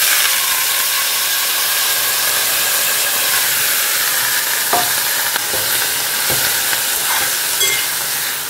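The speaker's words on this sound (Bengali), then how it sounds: "চলো এই অল্প তেলে এই সর্ষে ফোড়ন দিলাম আর শুকনো লঙ্কা" Mustard seeds and dry red chillies sizzle in a little hot oil in a kadai, making a loud, steady frying hiss with a few sharp pops and crackles breaking through toward the end.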